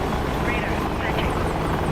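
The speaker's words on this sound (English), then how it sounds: "AH-64D Apache." AH-64D Apache attack helicopter in a video game, its rotor drone loud and steady throughout with a voice talking over it.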